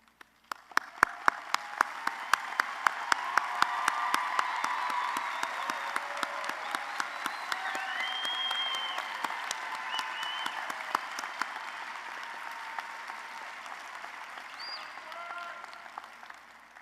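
An audience at a spring nursing commencement applauds honor students, clapping building quickly into a full, sustained round with sharp nearby claps on top, then thinning gradually toward the end with faint murmuring underneath.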